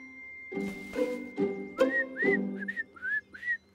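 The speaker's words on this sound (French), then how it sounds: "On peut aussi attirer les oiseaux en sifflant." Several short rising whistles, close and clear, following a few soft thumps and low murmurs in the first half, from the cartoon Boule et Bill.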